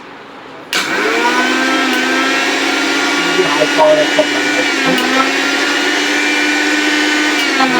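An Orpat 1600-watt mixer grinder blender starts abruptly and runs empty at high speed, a loud steady motor whine and whir that holds through, with a slight dip in pitch partway.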